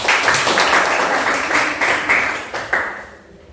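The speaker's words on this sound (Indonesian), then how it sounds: "Tepuk tangan dulu untuk kita hari ini." A classroom group clapping together after a maths lesson, close and fairly loud, with a few sharper bursts before the clapping dies away at the end.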